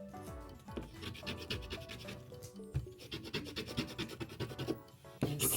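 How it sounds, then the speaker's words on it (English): A scraper is rubbed firmly over transfer tape laid on cut Cricut vinyl letters, giving repeated close raspy strokes in an uneven back-and-forth rhythm. "scrape it so that when I peel this backing off, the letters will hopefully stay on the transfer tape"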